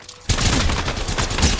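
Gunfire in the Old School RuneScape game during a King Black Dragon pet hunt, a dense burst of shots that starts abruptly after a brief quiet moment and stays loud and continuous throughout.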